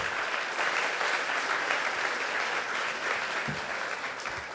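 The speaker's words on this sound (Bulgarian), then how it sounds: "Дайте ни аплодисменти да го чуе." Audience applause at a comedy roast, a dense, steady clapping from a crowd in a hall that holds for several seconds and tapers slightly toward the end.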